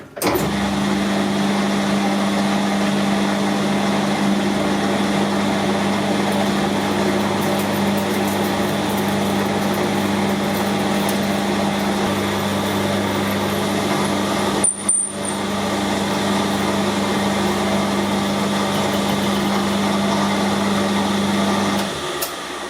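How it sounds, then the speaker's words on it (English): A lathe runs with a 1/2 inch drill in the tailstock boring through a tacho drive housing for an MF65: a steady, close motor hum and whir that continues unbroken, with one brief dip partway through. "we have a 1/2 inch drill here and we're just going to pop it through"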